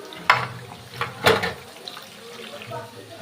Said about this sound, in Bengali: ভালো করে ধুয়ে নিলাম আলু পটলটা, নইলে অনেক সময় আলুতে কষ চাপিয়ে থাকে